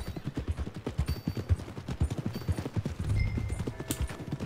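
Horse hooves in Red Dead Redemption 2 clip-clop in a steady, close walking rhythm of repeated dull thuds, with a faint snort near the end and no talk over them.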